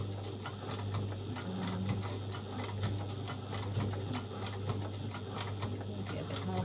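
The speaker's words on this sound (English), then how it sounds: "this is a heavy duty machine I use for my top stitching" A heavy duty sewing machine does top stitching on a dress, a rapid continuous mechanical ticking hum, close and steady throughout.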